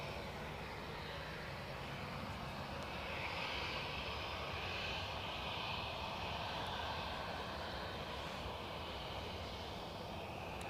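A Ryanair Boeing 737 jet roars continuously at Edinburgh Airport, a broad, steady engine rumble heard from a distance outdoors with no voices over it.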